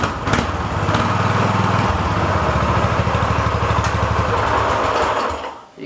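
A racing lawn mower's small engine runs steadily and loud, its rapid firing pulses filling the clip before cutting out abruptly near the end as the tethered kill switch pulls off.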